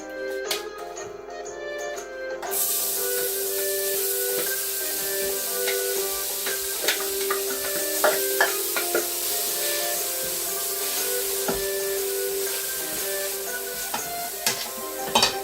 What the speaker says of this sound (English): Add in some olive oil. And now we're going to slowly cook the onions and the garlic.